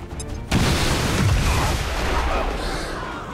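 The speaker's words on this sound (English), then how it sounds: "But maybe a second explosion can blow it up." A sudden loud blast in the tactics game XCOM 2 erupts after a quiet moment, then rumbles and slowly decays, with faint talk beneath.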